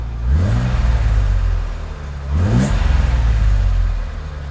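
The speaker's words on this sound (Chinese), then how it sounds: "其实排气声让我大哥觉得蛮好听的很顺畅。" A Mercedes R107 280SL engine runs after a fuel distributor repair, idling near 1100 rpm with a smooth, steady exhaust note. It rises in two brief revs, loud and close.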